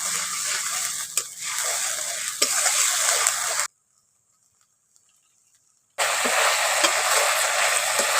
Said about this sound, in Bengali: এখন টমেটোর বাটাটা দিয়ে আমি ভালো করে একটু কষে নিয়েছি